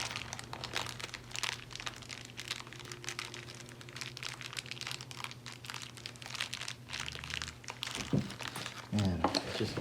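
Dense clicking and rattling of small metal screws being shuffled and sifted, continuous and close, with a steady low hum underneath.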